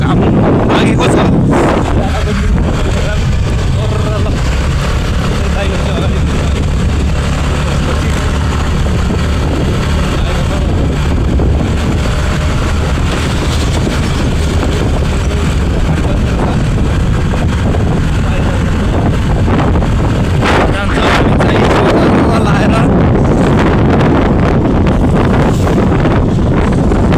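Cold wind buffeting the microphone on a motorbike ride to Pokhara, a loud, continuous roar with engine rumble underneath and no break.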